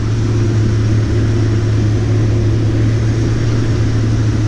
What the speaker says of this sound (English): The combine, it'll sound like it's dogging on these hills